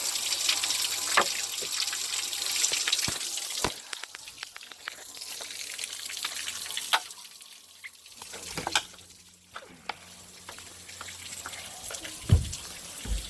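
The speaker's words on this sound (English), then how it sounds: "I mean, that's a lot of water running out of there" Water gushes steadily from a garden hose hooked to an outdoor pipe, a continuous broadband rush with a few sharp knocks and clicks along the way, loud and close, with no one talking.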